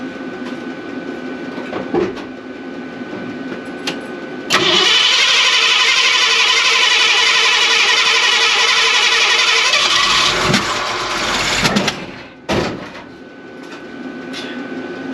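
A 1966 Ford F100 engine with a weak battery cranks loudly in a sustained burst, then sputters with sharp backfire pops before falling quiet, heard up close with no talking.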